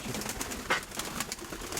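An injured pigeon coos softly once or twice over a steady hiss of background noise, with no one speaking.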